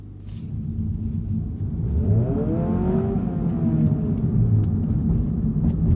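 Honda Prelude hybrid with an eCVT accelerating through simulated gear shifts, a rising engine drone that sweeps upward in pitch, drops back at each fake shift and climbs again, heard from inside the cabin.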